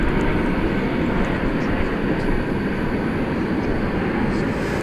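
Steady, loud roar of a Qantas jet airliner at DFW Airport at night, an unbroken broadband engine rumble throughout.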